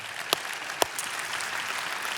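A church congregation breaks into full, sustained applause, a broad even roar of many hands with a couple of sharp, louder claps near the start.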